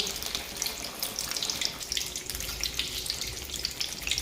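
Tilapia pieces frying in hot oil, a dense, continuous crackling hiss that stays fairly loud and busy from start to finish, with no one talking.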